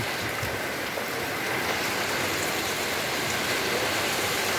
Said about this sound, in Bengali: আজকে অনেক বৃষ্টি।